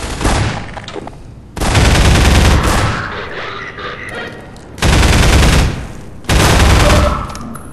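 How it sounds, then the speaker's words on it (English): Gunfire from the Half-Life 2 video game comes in four loud, dense bursts of rapid shots separated by short gaps of quieter game ambience, with no talk. "What the hell are you shooting at?"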